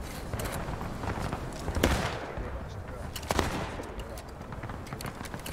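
Musket volleys in the Civil War battle game War of Rights, with a couple of sharp shots standing out over a busy battlefield bed and voices talking.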